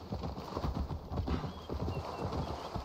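Horse hooves clip-clop steadily at a walking pace on the ground in Assassin's Creed Valhalla, a continuous close rhythmic thudding with soft ambient background.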